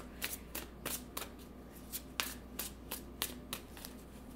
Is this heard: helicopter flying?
no